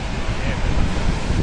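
Sea waves on the coast of northern Spain make a loud, continuous roaring wash, heavily buffeted by wind noise on the microphone.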